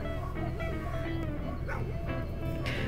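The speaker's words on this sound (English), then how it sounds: "my dogs are barking so much" Several pet dogs barking and yipping indoors at a house, repeated sharp barks with some higher whimpering tones, close and fairly loud over a steady background hum.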